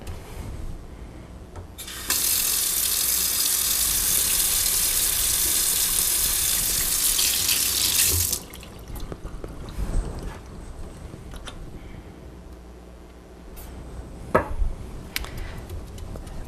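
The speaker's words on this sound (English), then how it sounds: "I just press it into the bottom of the sink to help push that blue out of it" A stiff paint brush pressed and rinsed under a running faucet in a sink, a steady close gush of water lasting several seconds, then stopping, followed by quieter wet rubbing and small knocks.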